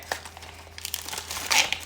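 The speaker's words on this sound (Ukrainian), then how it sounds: "Ладно, складаємо все в пакетик." A plastic packet crinkles sharply as items are packed into it, with close, bright rustles that swell toward the end over a low steady hum.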